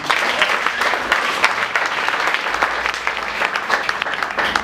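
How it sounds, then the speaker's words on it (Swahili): A church congregation applauds together, with dense and steady clapping close by that carries on without a break and a few voices mixed in underneath. "Yesu makofi ya ushindi."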